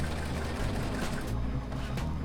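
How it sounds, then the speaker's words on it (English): A sewing machine stitching a tank top up to the edge of the fabric, avoiding the lace, with a close, fast rhythmic mechanical whirr and needle chatter running steadily throughout, no voices. "I'm gonna just sew up to the fabric"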